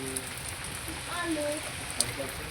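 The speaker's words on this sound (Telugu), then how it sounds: "ఇప్పుడు ఫుల్గా పడుతుంది చూసారా వర్షం" Rain pours down in a village, a soft steady patter and hiss under a nearby voice speaking briefly.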